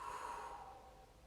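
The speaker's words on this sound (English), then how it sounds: "exhale through your mouth, making a whoosh sound like this." A single long exhale through the mouth with a soft whoosh, breathy and close, fading gradually over about a second.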